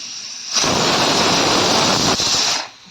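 A pressure cooker whistle while cooking horse gram; one loud, close hissing blast of steam rises suddenly, holds steady for about two seconds with a slight dip, then cuts off.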